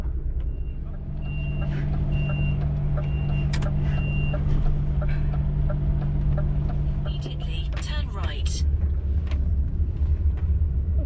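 A truck reverses into a parking spot in France, its reversing alarm beeping at a steady interval over a low diesel rumble, with someone talking throughout and another vehicle passing.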